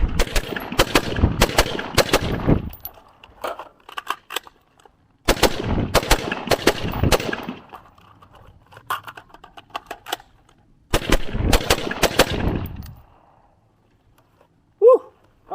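Daniel Defense MK-18 rifle fires three rapid strings of shots, each a few seconds long, with short pauses between bursts and metallic handling clicks in the gaps.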